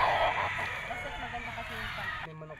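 A bull stag gamefowl rooster crows at a game farm, one sustained call close by over steady background noise, ending with a short tonal note.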